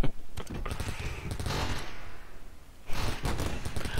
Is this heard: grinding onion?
no